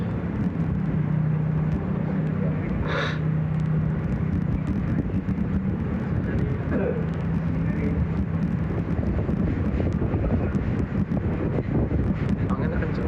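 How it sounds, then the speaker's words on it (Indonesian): Strong outdoor wind buffets the microphone in a constant roar, with faint voices and passing traffic noise underneath. "Anginnya kenceng."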